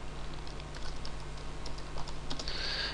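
Quick, light keystrokes on a computer keyboard tap out in a quiet room, irregular clicks clustering in short bursts, near and fairly faint with a faint steady hum beneath.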